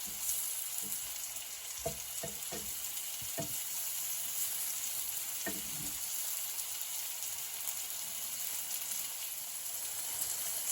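Garlic butter mushrooms sizzle steadily in a hot frying pan, a constant crackling hiss with a few soft scrapes and taps of stirring.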